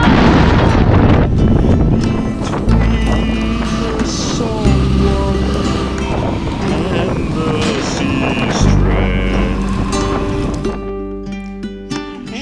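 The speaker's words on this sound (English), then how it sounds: "this is windy!" Strong wind buffets the microphone outdoors, a loud continuous roaring rumble with gusty swells throughout, while people talk over it.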